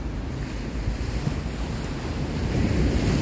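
Rough ocean surf during a storm surge at a seafront promenade, a continuous roaring wash of breaking waves mixed with heavy wind buffeting the microphone, loud and unbroken throughout.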